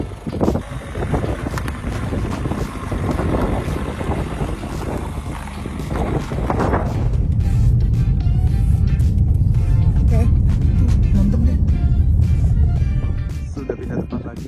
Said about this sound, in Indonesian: Nih suara mesinnya begini. Ya suara mesin diesel, cuma halus sekali.